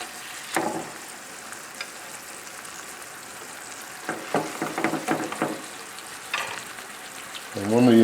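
Salmon sizzles in hot oregano oil in a pan, a steady crackling fry with a few louder stirring bursts and a rising sizzle at the end.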